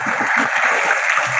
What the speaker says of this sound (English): Here I would want everyone to clap for Space India.